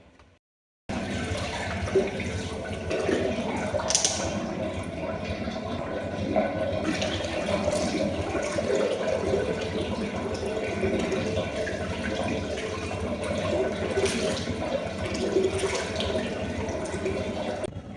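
Tap water runs steadily into a washroom sink while a face is washed, a close, continuous splashing hiss that begins after a brief quiet moment and carries on to the end.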